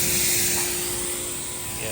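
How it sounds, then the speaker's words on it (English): A spray wand hisses loudly and steadily as it washes dirt off the back bumper of a Nissan 240SX, with a voice talking over the spray. "Alright, spray it."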